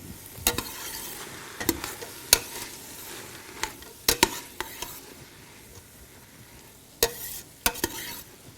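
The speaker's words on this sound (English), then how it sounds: "All right, so let's stir these together." Corn jalapeño chowder vegetables, peppers and carrots, stirred in a pot: a low background sizzle punctuated by sharp, irregular spoon knocks and scrapes against the metal, close and fairly loud.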